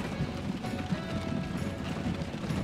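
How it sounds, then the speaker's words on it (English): Horse and carriage clip-clopping through a Transport Fever game depot: a steady, moderate hoof patter over a dense mechanical rumble of ambient game noise, with no voices. "we've got the nice horse and carriage here"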